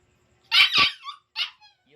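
A boisterous pet dog, scolded for barking nonstop and kept from eating, lets out a couple of sharp close barks followed by thin whimpering yelps and a brief squeak.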